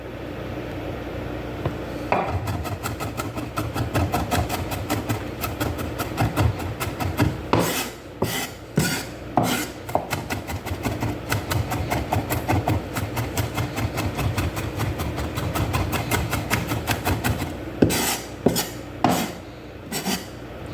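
Knife mincing garlic on a cutting board, with rapid, steady rhythmic chopping taps that run almost continuously for about twenty seconds and grow into sharper, louder clusters of strokes in places, close up with no talking.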